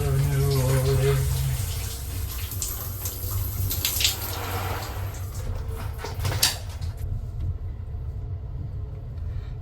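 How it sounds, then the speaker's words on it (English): A shower runs steadily in a cramped Amtrak roomette bathroom on a moving train, a broad hiss of spray and splashing over low rumble from the rails, with no talk. "It was a little hard to get the water warm, but the pressure was good"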